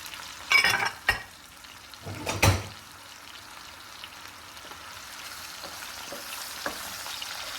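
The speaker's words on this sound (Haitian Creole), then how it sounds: "Je vais mettre le mushroom dans frit, dans même l'huile ça." Mushrooms frying in oil in a pan for a chicken and mushroom dish, with a steady soft sizzle broken by a few louder clatters and stirring noises near the start, then settling into a quiet continuous hiss.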